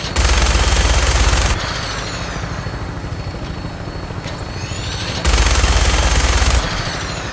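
Rapid machine-gun fire from an aircraft in the video game Fallout 4 comes in two loud sustained bursts over the steady drone of a helicopter rotor.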